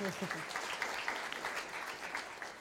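Audience applause at a live masterclass event rises as a dense, steady patter of many hands clapping, with a brief voice at the very start.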